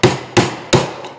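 Three loud, close hammer blows knocking a rivet out of a hand brake lever, evenly spaced and ringing sharply, with a faint fourth tap trailing at the end.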